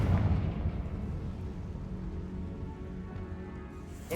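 A Confringo fire spell blast from the Hogwarts Legacy video game: a booming explosive burst at the start, then a rumbling, crackling decay that fades over several seconds, with a small pop at the end.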